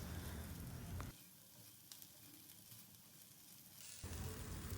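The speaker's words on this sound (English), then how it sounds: "now we will stir fry the bhindis or okra until they are well incorporated with the flavors of fried onions, garlic and the spices" Okra stir-fries with onions, garlic and spices in a pan, making a crackling sizzle that dips quieter through the middle and swells back at the end.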